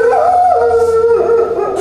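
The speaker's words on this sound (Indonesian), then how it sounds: "Kayak lagi lihat serigala ya, bukan lihat anjing suaranya." A dog gives a sustained, wolf-like howl at a kennel, one long wavering tonal cry that is loud, close and heard alone.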